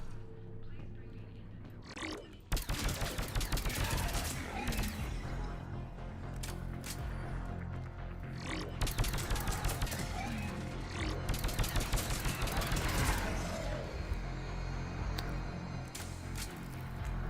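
Rapid bursts of gunfire from the video game Mass Effect 3 crackle almost continuously after a brief quiet start, with repeated sharp shots over dense, busy game noise.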